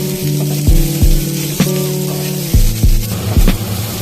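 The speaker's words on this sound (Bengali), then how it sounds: "বেগুনগুলোকে দিয়ে কিছুক্ষণ ভেজে নিয়ে" Loud sizzling of eggplant and potato frying in oil, punctuated by several sharp clanks of a utensil against the pan and a steady hum.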